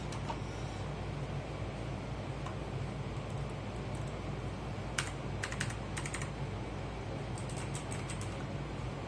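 Quick, light keystrokes tapped on a GAMDIAS HERMES E1 gaming keyboard, faint and a bit distant, in short bursts over a steady background hiss.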